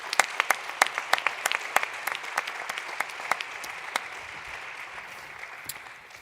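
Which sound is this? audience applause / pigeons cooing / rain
audience applause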